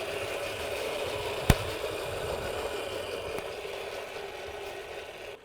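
The weak electric motor of a repaired kid's electric scooter whines steadily at mid pitch, with a sharp click near the start and a fainter one later, then fades slightly toward the end.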